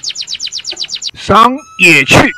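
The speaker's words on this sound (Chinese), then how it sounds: "听鸟鸣" Birds in a mountain forest along a sloping trail at Caoling Geopark in Yunlin, Taiwan, give a quick, evenly spaced run of about nine bright chirps, and then a voice narrates over the setting.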